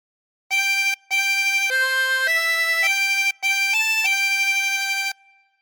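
A reedy 24-hole tremolo harmonica plays the slow melody of God Defend New Zealand in sustained notes, with two brief breaths between phrases, loud and close with nothing else heard.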